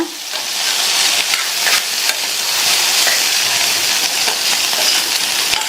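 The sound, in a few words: stirring beans poriyal with coconut mixture in a pan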